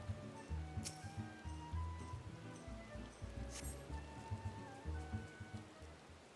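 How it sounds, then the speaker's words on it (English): Rainfall in the video game Final Fantasy XIV, a steady patter of drops over game music with melodic tones throughout, plus a couple of brief bright splashes. "Oh, look, it's raining."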